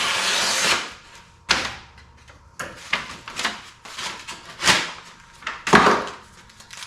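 Postal paper being trimmed on a workbench, with several short, crisp cutting and rustling bursts close by, separated by brief pauses.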